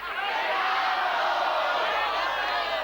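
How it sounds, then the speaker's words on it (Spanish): Broad, steady studio audience applause mixed with laughter and some crowd noise on a 1993 New Year's Spanish TV show, loud and continuous throughout. "Noto aplausos y también un poco de cachondeo, un poco de risas."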